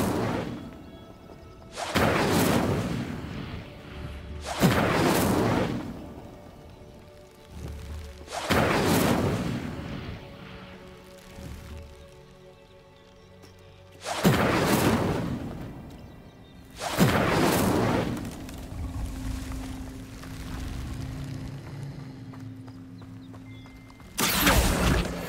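Incendio fire spells cast in the wizarding game Hogwarts Legacy on hard mode: five or six loud, sharp whooshing bursts a few seconds apart, each trailing off into crackling roar over faint ambient background.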